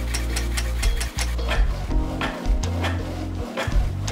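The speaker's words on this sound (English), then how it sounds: "Photo printer is slower printing a black and white document." A Canon PIXMA photo printer prints a black and white document over the network, giving off steady mechanical ratcheting and gear whirring, with repeated clicks and brief pauses in its motion, close and fairly loud.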